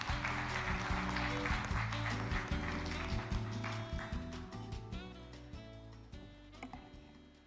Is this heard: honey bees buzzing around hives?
no